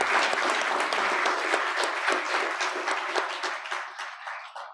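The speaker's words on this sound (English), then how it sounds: "So let's give them all a beautiful hand of applause." Audience applause at a speech event honoring women, a dense burst of clapping from a crowd that carries on steadily and then tapers off at the end.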